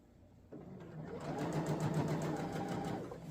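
A sewing machine runs a steady stitching burst through shirt fabric, close and fairly quiet, starting after a brief pause and humming rhythmically to the end.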